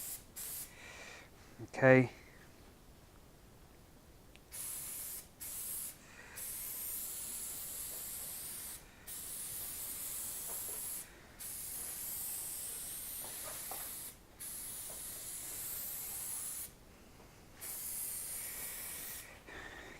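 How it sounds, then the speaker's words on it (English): A shaken can of adhesive spray, used while replacing piano damper bar felt, lets out a series of hissing bursts, some brief and some longer, close up, with a person talking now and then. "Adhesive spray, give it a good shake, go for it."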